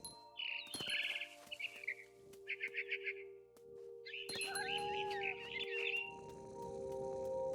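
Frightened bird in a video game chirping in quick bursts of high, twittering calls, sharp trills cutting in and out over a steady electronic game-music backdrop with a low hum.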